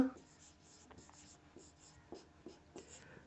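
A maths solution is written by hand in a quiet room, a series of soft, close scratching pen strokes in short irregular bursts, with faint murmured speech in places.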